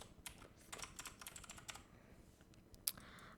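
Quiet keystrokes on a computer keyboard come in a quick burst of close, soft clicks, then taper into sparse taps with one sharper click near the end.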